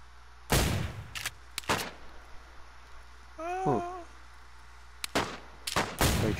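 Gunfire in a video game rings out as several sharp, loud shots scattered across the moment, with a short warbling game sound in the middle and quiet background between bursts.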